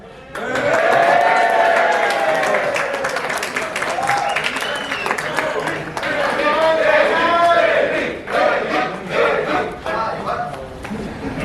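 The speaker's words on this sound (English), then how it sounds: "So let's have the same cheering for all of us." A convention hall crowd in Vijayawada at a railway enthusiasts' event roars and shouts for a contestant, loud and sustained with hollering voices, brief claps, and a dip and surge near the end.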